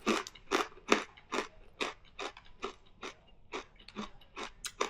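Loud, crisp crunching close to the ear, in steady rhythmic bites as crunchy plantain chips are chewed, with no talking.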